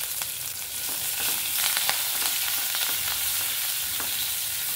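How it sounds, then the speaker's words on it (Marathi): Chopped green chillies and curry leaves sizzle in a potato masala for masala dosa, a soft, even frying crackle with scattered small pops throughout, fairly quiet and alone. "ह्याच्यामध्ये आपण चिरलेली मिरची टाकतोय, कढीपत्ता टाकलेला आहे"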